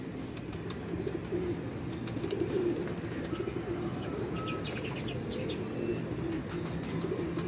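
Pigeons, including a female, coo in a low, continuous murmur close by, with soft wing flaps and occasional faint chirps layered over the steady cooing.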